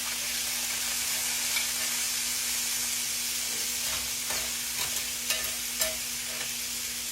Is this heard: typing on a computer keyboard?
no